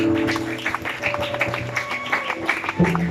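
A church congregation at a concert applauds and cheers, scattered claps and voices over a low sustained musical hum, moderately loud throughout.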